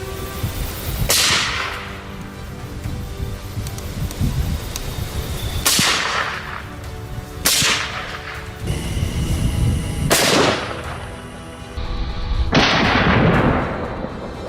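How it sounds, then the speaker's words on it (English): Rifle shots ring out across an open field during a wild boar hunt, about six loud sharp cracks at irregular intervals, each trailing into a long echoing decay. "Gunshots echoed across the entire field"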